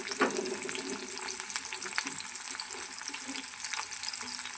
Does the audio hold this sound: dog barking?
no